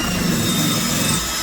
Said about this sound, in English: I got my drill with like a Scotch-Brite type pad on it.